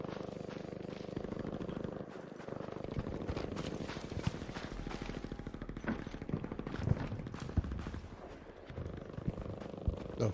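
Rapid gunfire rattles in the extraction shooter Arc Raiders, repeated sharp cracks over a droning mechanical rumble, moderately distant and continuous across the stretch.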